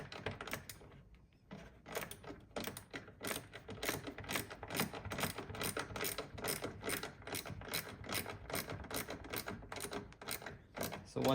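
A ratchet clicks rapidly and continuously as a fastener on a Tesla Model Y taillight is tightened clockwise, producing a dense, close run of sharp mechanical ticks.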